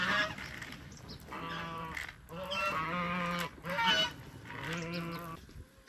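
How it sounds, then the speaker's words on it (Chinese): Frightened farmyard ducks honking and quacking in loud, repeated bursts of harsh calls, several overlapping, close by with short pauses between outbursts while a duck is being caught. "现在鸭子受到了惊吓啊，估计一时半会它不会过来吃。"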